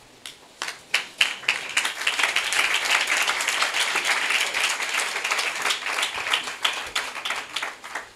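Church congregation breaks into applause during a French service, scattered claps building into a dense, sustained round, then thinning back to separate claps.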